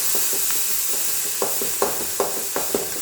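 Grated onion frying in coconut oil, a steady close hiss and sizzle punctuated by a series of sharp spatula scrapes and stirs toward the end.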